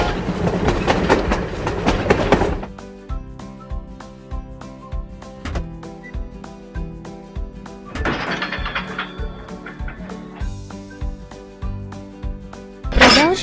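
A children's toy train runs on its tracks in a video game, with a steady rhythmic clickety-clack of wheels over rail joints and a few louder bursts of clattering effects, close and clear with no talk.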